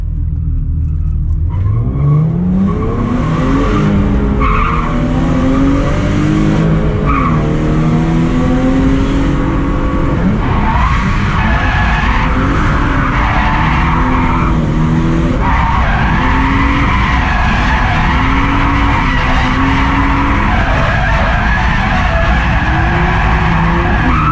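A drift car skids around a partly wet, partly dry track at night, its engine revving hard and loud throughout with long, wavering tire squeals that rise and fall close by.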